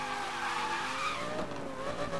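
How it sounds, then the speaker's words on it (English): Car tires squeal and skid through a drift in Need for Speed Most Wanted, driving an Audi R8 GT Spyder, a loud, sustained screech with a wavering whine layered over engine roar. "Drifting is bad."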